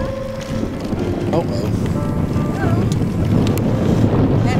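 Strong wind buffets the microphone outdoors in flat riverside farmland during a cycling trip, a constant heavy rumble throughout, with a voice speaking briefly over it.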